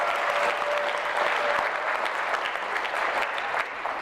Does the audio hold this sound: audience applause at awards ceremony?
yes